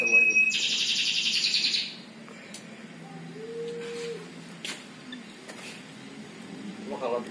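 Female canaries in a breeder's cage chirp and tweet steadily in the background while people talk nearby.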